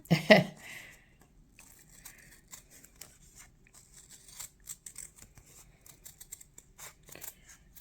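Scissors cut craft material for a Halloween decoration inspired by Little Shop of Horrors, starting with a loud crisp snip and crinkle, then a run of softer close snips and rustles.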